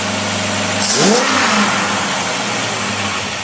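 A car engine fitted with tri-power carburetors, idling with a steady low rumble, then one sharp blip of the throttle that rises and falls back, loud and close.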